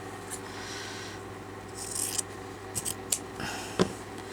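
Soft crisp snips of scissors cutting through fabric, a few brief close cuts over a quiet room hiss.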